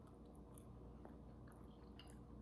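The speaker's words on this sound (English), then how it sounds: "Jean, let me get a piece of this tofu." Close, crunchy chewing of a piece of fried tofu from a stir fry, steady soft mastication with a few brief crisp bites, no talking.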